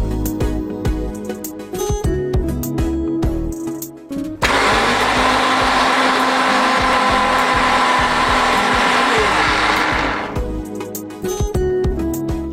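A kitchen mixer grinder grinds roasted peanuts and sesame in a loud, continuous whirring burst of about six seconds, with quieter background sounds and music before and after.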